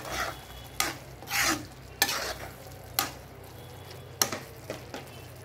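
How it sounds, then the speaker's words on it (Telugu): Fried okra being stirred into a simmering curry in a pan: a run of distinct scraping strokes, roughly one each second, over a steady low hiss, close and fairly loud with no talk. "అవి కూడా వేసుకొని బాగా కలుపుకోవాలి"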